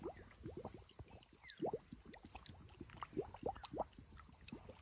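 Water gurgles and bubbles as it fills a bottle during a fishing setup, a quiet, close series of glugging pops in an irregular rhythm, with no talking.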